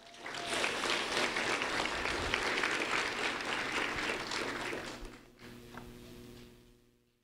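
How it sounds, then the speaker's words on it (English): Audience applause at a school ceremony honoring two fourth-grade students, sustained clapping from a crowded room that holds steady for about five seconds, then fades out, leaving faint room tone. "A round of applause for Vita and Ashley."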